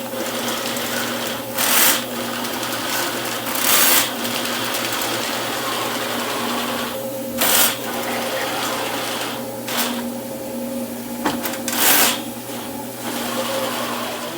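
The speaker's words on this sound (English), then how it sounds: "we snaked 45 feet with the 7/8 inch cable, which is the big cable you use for main lines" A drain snake machine turns a 7/8-inch cable down a plumbing main line with a loud, continuous mechanical whir and tonal hum. Periodic surging bursts come every couple of seconds, close up and without speech.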